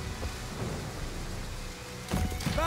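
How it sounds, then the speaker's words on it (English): Thunderstorm with steady rain in the ancient-Egypt strategy game Total War: Pharaoh, a continuous wash of rainfall joined near the end by a louder rumbling thunder roll, with no voices over it. "But we're in a storm right now"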